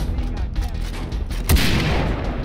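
Gunfire in the video game Far Cry 3, with a sharp loud blast near the midpoint and a busy, rumbling battle noise before and after it.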